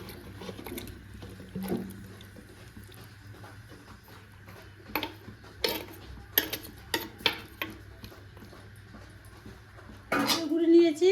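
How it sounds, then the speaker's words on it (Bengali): Boal fish pieces set into a clay cooking pot with a little oil: a few soft clattering, wet knocks in a cluster mid-clip, then a louder burst of contact and sizzle near the end, over faint background hum. "বোয়াল মাছ মাটির হাঁড়িতে দিয়ে দেবো।"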